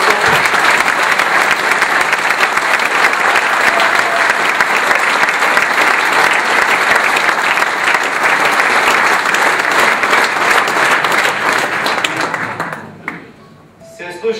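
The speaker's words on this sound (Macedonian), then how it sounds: "Ајде ние со еден аплауз да го поздравиме за нас души од овде од Румава." A large crowd at a mayoral candidate's campaign rally in Struga applauds loudly and continuously for over ten seconds, the dense clapping fading out near the end as a voice begins.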